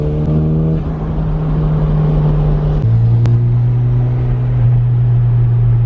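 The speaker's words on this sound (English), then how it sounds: "That turbo flutter, though" A turbocharged Toyota MR2 engine with a new exhaust rumbles steadily with a deep exhaust note, shifting pitch partway through, with a brief sharp turbo flutter burst; no talking.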